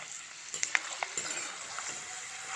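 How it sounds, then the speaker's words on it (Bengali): Peanuts frying in hot oil over a low gas flame, a steady soft sizzle with a few sharp crackles and pops near the start, close and moderately quiet, with no voices. "হালকা হিটে একদম গ্যাসের ফ্লেম লোতে রেখেই এই বাদামটা কিন্তু ভেজে নিতে হবে"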